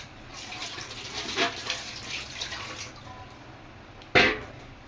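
Cauliflower being washed under a kitchen tap, water running steadily with soft splashing swells and a sharper splash near the end, close and fairly quiet.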